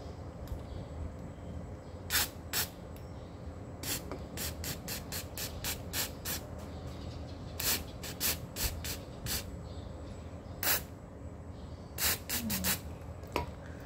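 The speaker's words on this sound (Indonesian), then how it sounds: "ini tinggal semprot-semprot aja" Short, sharp hissing bursts of aerosol cleaner are sprayed onto a car's MAP/MAF sensor, about two dozen quick squirts at an uneven rhythm, some in rapid clusters, over a steady background hum.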